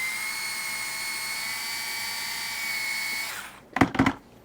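A small drill bores through a Mini4WD rear stay with a steady high whine for about three seconds, then cuts out, followed by a couple of brief rattling bursts.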